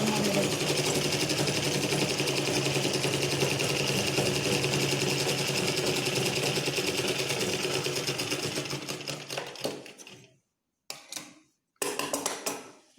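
A sewing machine runs steadily, stitching along the side of a silk pavadai, a girl's skirt, then slows and stops in short bursts near the end.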